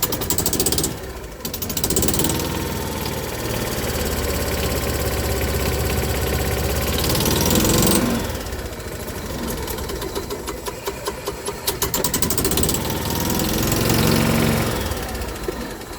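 A cold engine starting and idling, running loud and rough with a continuous knocking chug that falters and dips several times before settling back into its uneven idle, with no talking.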